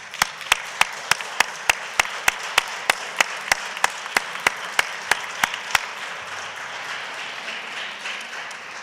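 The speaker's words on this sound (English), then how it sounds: "Let's give her a round of applause." Evenly spaced single claps ring out sharp and loud at a steady beat over a soft bed of wider applause at a Cleveland city council meeting, the lone claps stopping partway while the crowd's applause carries on.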